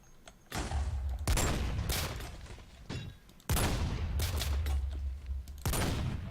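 Sniper fire in the Creeper Bunker video game, several loud, sharp shots spaced out, each trailing into a rumbling echo, with no talk.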